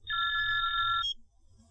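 A telephone rings once in a short two-tone electronic burst, clear and fairly close, with a low hum underneath.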